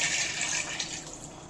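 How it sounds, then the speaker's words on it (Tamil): Water poured from a pot, a brief steady gush that tapers off slightly, close and fairly loud with no talking. "ஒரு சொம்பு தண்ணி ஊற்றிருக்கோம்."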